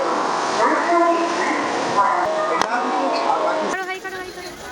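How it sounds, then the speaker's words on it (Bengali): Busy platform ambience at Howrah Station, with a train rumbling and screeching nearby, a sharp clank, and voices chattering in the background. "তো ফাইনালি চলে এসেছি হাওড়া স্টেশন"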